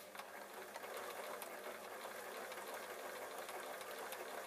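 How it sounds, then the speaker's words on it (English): A sewing machine runs steadily as it stitches a seam joining fabric pieces for a small drawstring storage bag, a continuous close whirring hum with faint rhythmic needle clatter, no talking. "So all I'm doing is I'm sewing up to that little line of stitches."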